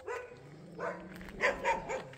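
Several dogs barking outdoors at some distance, a few short yips and barks in quick succession at moderate volume, heard alone.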